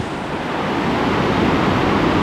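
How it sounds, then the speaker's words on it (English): Water of Nabuyole Falls near Webuye, Kenya, crashing onto rocks as a continuous, dense, loud roar that grows slightly stronger and never lets up. "Listen to the thunderous sound of the water snaking its way and hitting upon the rocks"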